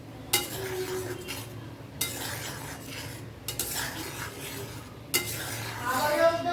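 Sweet-sour-spicy mango chutney sprinkled with roasted spice is stirred in a pan. Soft scraping runs under a low simmer, broken by four sharp utensil knocks against the pan at roughly even intervals. No speech.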